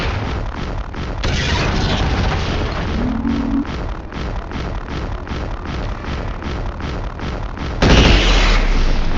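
Heavy booming blasts and rumbling impacts from targets being destroyed in Mechwarrior 4 Vengeance, a dense, continuous barrage with a louder burst near the end, no voices.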